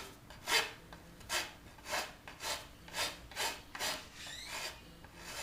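Rasp strokes across a wooden bow limb near the tip, a series of about ten rhythmic rough scrapes spaced roughly half a second apart, close and fairly quiet, with no talking.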